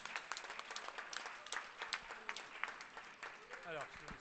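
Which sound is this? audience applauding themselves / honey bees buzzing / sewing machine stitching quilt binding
audience applauding themselves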